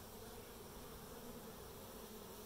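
Honeybees buzz steadily inside a beehive, a dense, continuous hum that stays even and fairly close throughout with no voices over it.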